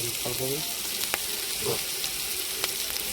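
Onion fries in oil in a pan, a constant crackling sizzle with a few sharp spatters and scrapes, while a voice briefly murmurs at the start.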